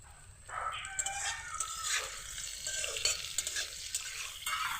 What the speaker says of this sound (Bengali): এখন কড়া করে একটু ভেজে নেব।